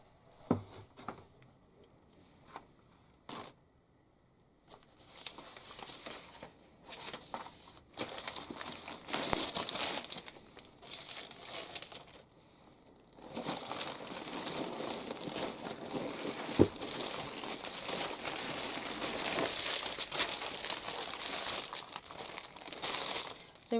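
A buckled paper folder and loose paper are crumpled and crushed by hand for the bin, giving bursts of close, crackly crinkling that start sporadically and then run steadily for a long stretch, with no talking.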